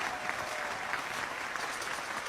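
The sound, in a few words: audience applause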